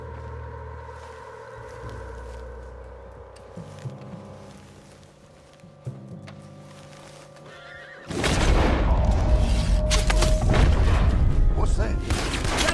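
Horse whinnying and snorting in Red Dead Redemption 2, a drawn-out neigh amid game ambience and low rumbles early on, then loud gunfire-like bursts and commotion take over for the final stretch.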